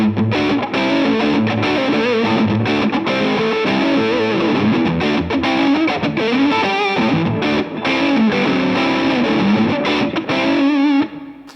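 Loud distorted electric guitar on a Minarik Medusa Super Custom with both pickups on, playing chunky chords and riffs, brighter and fuller than a neck tone, continuous for several seconds before cutting off.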